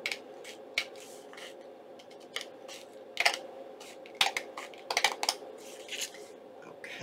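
Scissors snip through a recycled paper window envelope from junk mail, a series of short, close crisp cuts and paper rustles at an irregular pace, fairly quiet and with no talking.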